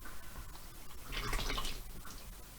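Melted soap base for a bush honey and oatmeal bar being poured off from its container, a brief soft liquid splash swelling in the middle and fading, close and fairly quiet.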